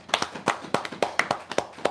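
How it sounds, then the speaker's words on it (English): Congregation at a church service gives a short burst of clapping, about a dozen sharp, evenly spaced claps from a few hands, close and fairly quiet. "Give the Most High a round of applause"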